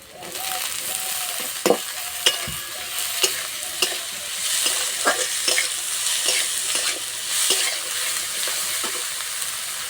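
Boiled mixed vegetables frying in mustard oil with onion, garlic and green chilli in a kadai, a steady hissing sizzle broken by repeated sharp spoon clacks and scrapes as the mix is stirred.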